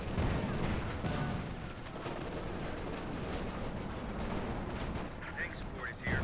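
Battle in Company of Heroes 2, with German and US forces trading fire: continuous rattling small-arms fire and thudding gun and artillery shots blend into a dense, steady din under a caster's running commentary.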